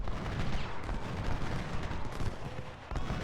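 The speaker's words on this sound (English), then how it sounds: "And there is plenty of enemy artillery." Dense, continuous battlefield gunfire and booming artillery from the Civil War strategy game Ultimate General: Civil War at the Battle of Gaines' Mill, a steady rumbling barrage of volleys and cannon shots with no pauses.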